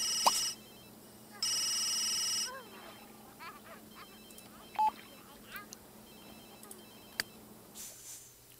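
Telephone ringing in The Sims 3, two loud electronic trill bursts near the start, then game sounds with soft simlish voices and small clicks.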